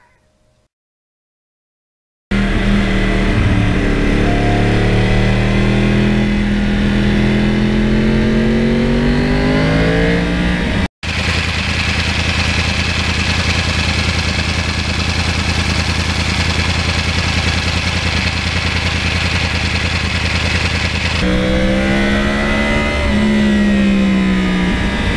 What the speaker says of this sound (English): you turn the engine on